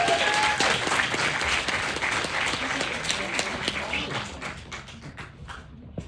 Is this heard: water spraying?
no